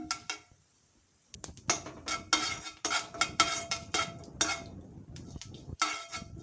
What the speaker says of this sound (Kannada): ಇದಕ್ಕೆ ಜೀರಿಗೆ ಮತ್ತು ಕಾಳುಮೆಣಸು ಹಾಕಿ ಹುರ್ಕೊಳ್ತೀನಿ